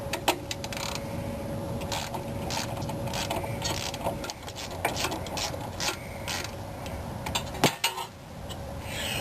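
A wrench loosens a bolt on the front shock absorber of a 1984–1991 Mercedes, giving quick, close metallic ratcheting clicks in a steady series with a few louder clanks near the end.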